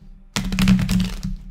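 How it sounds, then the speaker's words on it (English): A new Native Spirit Tarot deck is shuffled, the stiff cards giving a short, dense burst of riffling clicks and slaps that stops abruptly after about a second, close and fairly loud. "these cards are new, so they're a little hard to shuffle"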